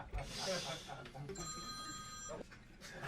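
A phone rings in the audience at a stand-up comedy show, a tonal electronic ring lasting about a second, heard under a comedian talking and crowd noise.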